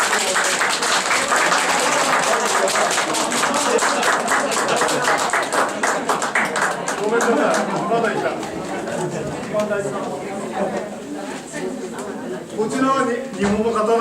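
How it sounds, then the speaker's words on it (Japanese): An audience applauds at a Japanese event, with dense clapping running loud for about the first ten seconds, then thinning and fading, while a voice speaks briefly over it. "以上の皆様、どうぞ盛大な拍手を"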